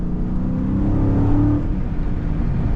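A Dodge Charger Scat Pack with its 392 V8, driven in manual mode and stuck in fourth gear, drones loudly at a steady low pitch, swelling briefly as the throttle is pressed and then easing off, with no talking.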